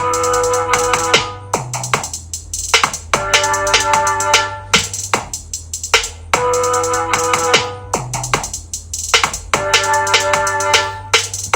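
A looping beat of kick drum and steady hi-hats under a bright tonal backing, repeating in even cycles with no voices.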